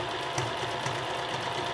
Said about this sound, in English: I'm just gonna do a zigzag stitch so it's a little bit more secure